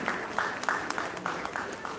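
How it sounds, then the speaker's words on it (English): Applause for an award recipient at an education excellence conclave ceremony, a steady patter of clapping from a moderately sized audience lasting a couple of seconds, with faint voices mixed in. "we can have a huge round of applause for the awardee."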